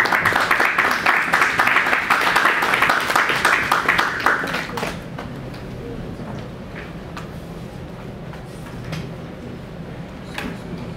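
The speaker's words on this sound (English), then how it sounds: "Let's welcome him with a warm round of applause." Warm applause from an audience welcoming a speaker at an academic lecture, a dense burst of clapping for roughly five seconds that then thins into scattered claps over a quieter room.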